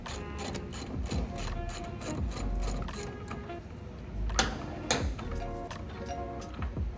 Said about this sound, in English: you're going to take a 9/16 wrench and go on ahead and loosen up the sharpening disc